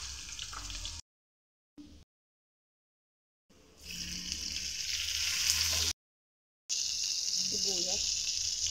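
Garlic sizzling in hot oil while frying, a steady bright hiss that starts and stops in bursts with gaps of silence, heard close and moderately loud.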